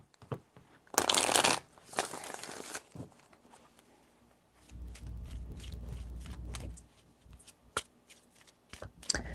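Tarot cards shuffled by hand in a few quick riffling bursts, close and crisp, followed by soft handling taps and quiet shuffling sounds.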